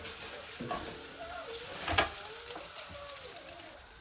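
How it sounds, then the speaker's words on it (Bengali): Eggplant slices frying in hot oil in a home kitchen, a steady close crackling sizzle throughout with a brief louder spatter midway, no talking. "এখানে বেগুন ফ্রাই করে নিচ্ছে এখন"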